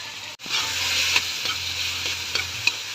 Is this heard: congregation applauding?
no